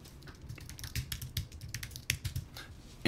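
Quick, close keystrokes tap on a computer keyboard during NAS setup, an uneven run of clicks with no talking.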